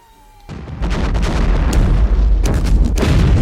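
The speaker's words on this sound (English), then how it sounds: "The bad news, it's just in time to watch it blow up." A bomb explodes in the film Event Horizon with a sudden loud boom that turns into a heavy, sustained roaring rumble with crackling bursts, filling the clip.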